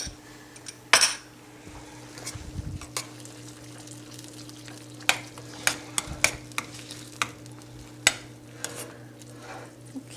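Garlic going into a pan of ratatouille vegetables and being stirred, with a hiss of frying under scattered sharp scrapes and clinks of a utensil against the pan and a steady low hum throughout.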